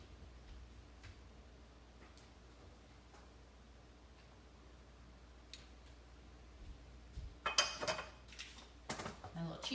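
Pans and a cutting board are moved around a home kitchen during a live ramen cooking class: quiet room tone at first, then a cluster of close, loud clattering knocks and scrapes near the end.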